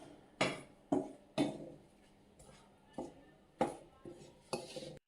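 A spoon mixes chilli powder and salt into goat brain in a pan, giving several sharp metallic clinks and scrapes at irregular intervals, close and fairly clear, with no talking.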